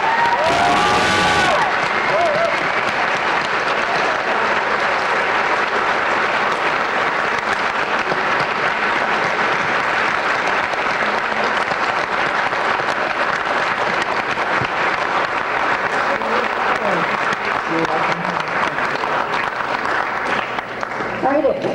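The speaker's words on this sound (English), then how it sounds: "will you please give a rousing clap to Jen Lynch for all of our work" A school senior awards audience gives a rousing round of applause, dense and steady clapping with some cheering that carries on for about twenty seconds after a brief voice at the start.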